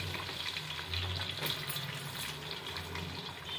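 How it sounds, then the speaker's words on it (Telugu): Sliced onions drop into hot tempering oil, making a soft, watery crackle and hiss that stays fairly faint and steady for a few seconds, with no voices over it. "ఇప్పుడు ఈ ఉల్లిపాయలు మనం ఈ వేడి తిరగమాతలో వేద్దాము"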